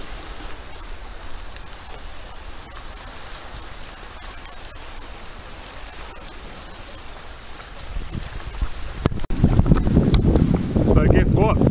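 Wind buffeting the microphone while sailing a double sea kayak near Port Arthur, a steady rushing hiss that swells into heavy, loud low gusts and water noise in the last few seconds.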